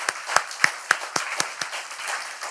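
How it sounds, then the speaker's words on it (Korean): A church congregation claps together in praise during a Sunday afternoon service, a run of about eight crisp, evenly spaced claps at a brisk steady rhythm, close and clear with no talking. "우리 영광의 박수를 하나님께 올려드립니다"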